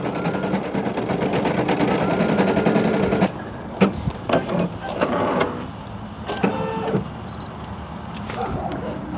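An embroidery machine stitches a design outdoors at a park, powered from a Honda Ridgeline RTL-E in accessory mode, giving a steady rapid mechanical whirring that drops off midway, followed by scattered clicks and knocks.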